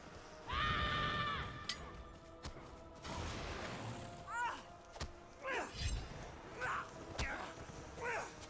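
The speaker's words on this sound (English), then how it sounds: "I was thinking I was done with war horses." A war horse neighs in the Lord of the Rings video game, giving a long shrill whinny and then several shorter whinnies in a row, mixed with thuds and crashes from the game.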